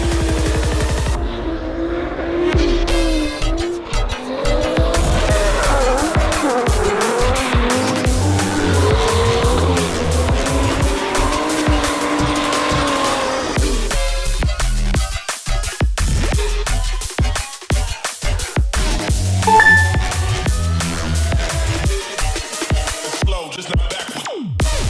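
Two drift cars at a USDriftcircuit ProAM round, one a rental, roar loudly as they get on throttle, with engines revving and tires squealing continuously through a long, sustained run, interrupted by sharp bursts near the end.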